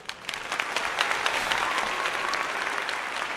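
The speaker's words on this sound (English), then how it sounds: "Round of applause." An applause sound effect played during a live watch-party stream of a UFC card, a full crowd-style burst of clapping and cheering that swells in and holds steady at moderate level.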